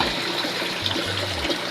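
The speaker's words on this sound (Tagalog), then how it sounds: "pagpasok ng tubig dyan, may 2 tubo ako dyan, babagsak dito sa breeders ko ulit ito" Water from two filter pipes pours steadily into a crayfish breeder tank, a continuous close splashing rush with a low gurgle underneath.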